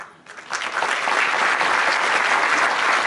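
Family audience clapping at a school music-theatre show in Vordingborg, a sudden swell into sustained, even applause from a full room that holds steady for several seconds.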